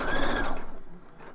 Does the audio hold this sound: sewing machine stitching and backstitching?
yes